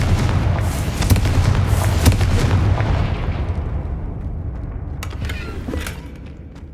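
A Confringo fire spell explodes in Hogwarts Legacy, a loud rumbling blast with crackling debris that slowly decays, with a few smaller pops near the end.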